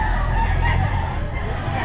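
A rooster crows at a busy outdoor pet market, loud and close, one sustained call over a low murmur of crowd noise.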